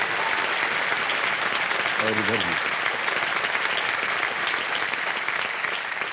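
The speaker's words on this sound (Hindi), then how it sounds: "तालियां बज जाए इनके लिए।" A studio audience on a quiz show applauds continuously and loudly for Khan Sir's students, while a voice briefly speaks over the clapping.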